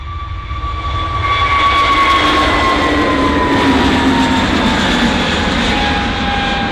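A jet airliner taking off at Bristol Airport, its engines a loud, steady roar that swells and holds with a rising whine, dominating the scene with no voices.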